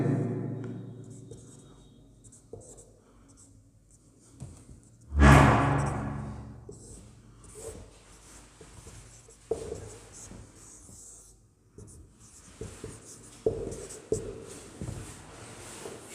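Pen or chalk writing numbers in columns during a Class 10 Hindi chemistry lesson on chemical reactions and equations, heard as soft scratchy strokes spread through the clip with a brief louder knock near the middle.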